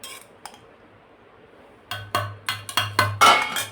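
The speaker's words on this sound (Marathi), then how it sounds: "तर सर्वात आधी हा भात मिक्सरच्या जारमध्ये आपण थोडा थोडा करून वाटून घेणार आहोत।" Leftover cooked rice from the night before is spooned into a mixer grinder jar, making a run of about six sharp, close clinks and knocks against the jar after a quiet start.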